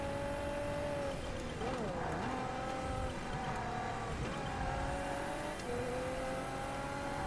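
Race car engines in TOCA Race Driver 3 drone and rev steadily, pitch dipping and rising through gear changes, with other cars close behind and someone commentating over the engine noise throughout.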